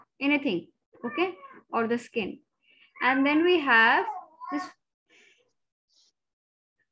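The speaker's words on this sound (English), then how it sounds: "I'm sorry, that's my cat." A pet cat meows several times in a room, mixed with a lecturer's medical teaching speech; the cat's harmonic cries stand out near the middle, close and fairly loud, then fade into quiet.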